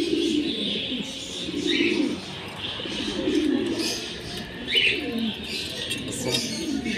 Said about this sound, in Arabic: اهو بصوا يا جماعه المشي بتاع الحمام